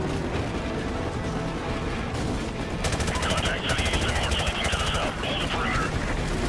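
Machine guns fire in Call of Duty 4 Modern Warfare Remastered, with dense, loud automatic bursts that grow sharper midway, layered over battle noise and a player talking.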